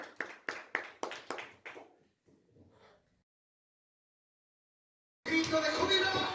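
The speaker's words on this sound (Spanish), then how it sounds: "levantamos un aplauso fuerte al Rey para entrar en este tiempo de adoración" Worshippers clap at a church service, a short burst of quick, sharp claps close by that thins out and stops, followed by silence and then a louder, dense stretch of sound.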